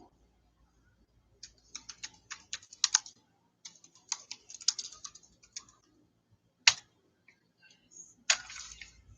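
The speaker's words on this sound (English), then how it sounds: "I'm actually going to type it in." Someone types on a computer keyboard in short, uneven bursts of clicking keystrokes, separated by pauses. The clicks are close and fairly quiet, with no speech.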